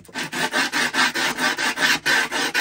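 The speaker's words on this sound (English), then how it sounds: "So I get my knife. I'm sure you've seen this a million times before, but I'm just going to rub this." A knife is rubbed along the grip tape edge of a Santa Cruz Jeff Kendall Atomic Man skateboard deck, making a loud, close rasping scrape repeated in about eleven quick, regular strokes.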